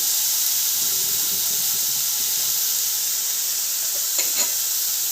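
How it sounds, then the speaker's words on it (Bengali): Cauliflower frying in a pan as spices go in, a steady close hiss of sizzling oil with a couple of faint clicks near the end. "ফুলকপিগুলো ভাজা ভাজা হয়ে এসছে। এবারে আমি এতে মশলাগুলো দিয়ে দেবো।"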